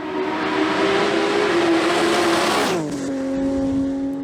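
BMW M3 E36 racing car in the production class at the Vuillafans–Echevannes hill climb, engine howling loud and close at high revs, then a downshift drops the pitch to a steadier drone, with no talk.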